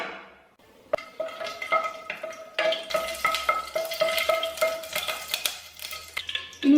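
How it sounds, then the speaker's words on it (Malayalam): Whole cardamom pods, cloves and cinnamon sticks crackle and sizzle in hot oil in a pan, with a spoon stirring and scraping against the metal in steady strokes, loud and close, with no voices. "എണ്ണ നന്നായിട്ട് ചൂടായി വന്നിട്ടുണ്ട്. ഇനി ഇതിലേക്ക് കുറച്ച് സ്പൈസസ് ചേർത്ത് കൊടുക്കാം."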